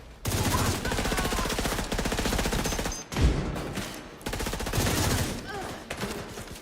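A minigun in the shooter The Division 2 fires in long continuous rapid bursts, loud and close, broken by a short pause and a heavy thump near the middle before the rattling fire resumes.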